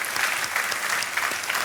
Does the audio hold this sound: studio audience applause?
yes